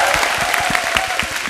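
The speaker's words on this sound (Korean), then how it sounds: "박수 한번 부탁드리겠습니다." A short burst of applause from a military audience at an air force base show, dense clapping from many hands, loud and close.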